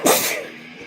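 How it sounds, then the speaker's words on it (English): One sharp, close sneeze bursts out, then trails off quickly into quiet. "I gotta sneeze."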